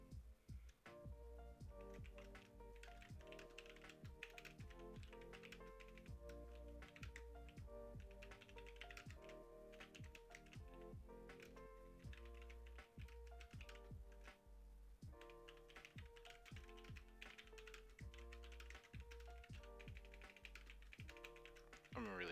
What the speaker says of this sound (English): How's my typing? Is it loud enough?